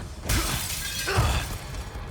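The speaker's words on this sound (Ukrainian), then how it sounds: "Розбив вікно" Window glass shattering in the video game Resident Evil 4: two loud, crashing breaks, the first sharp and bright, the second following about a second later, each trailing into tinkling debris.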